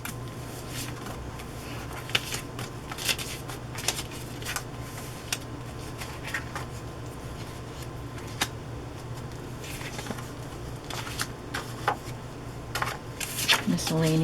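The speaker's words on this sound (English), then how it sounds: "I'll put all the cards in one pile." Paper cards and sheets of scrapbook paper and wallpaper being handled and sorted into piles, a steady run of close, crisp rustles, flicks and soft slaps with a constant low hum underneath.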